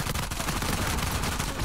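Rapid, dense gunfire in a video game, an unbroken burst of close, loud shots with no talking.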